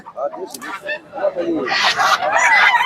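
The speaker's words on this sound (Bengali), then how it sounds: "অনেকগুলো মুরগি" Native chickens and roosters at a rural poultry market in Nazirpur, Bangladesh, clucking and squawking up close in overlapping bursts. The calls grow louder and denser toward the end, and a voice mixes in with them.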